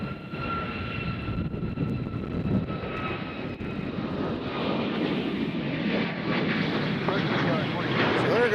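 An airliner bound for Tampa departs Nashville International Airport, its engines a steady, broad roar that holds strong and close throughout, with no break or fade.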